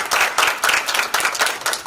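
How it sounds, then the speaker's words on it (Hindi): An audience at a company event applauds for Anand sir, with dense, loud, steady clapping throughout. "आनंद सर के लिए ताली बजाइए।"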